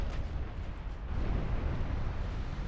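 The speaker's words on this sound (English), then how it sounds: "11 torpedo hits in total." Torpedo hits explode in a naval warfare video game, a deep, continuous rumbling roar of blasts that stays loud and heavy throughout.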